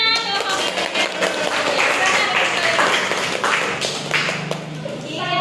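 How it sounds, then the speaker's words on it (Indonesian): Students clapping in a junior high school classroom, a brisk patter of hand claps and taps with some louder individual claps, continuing for several seconds under murmuring children's voices. "Tepuk tangan"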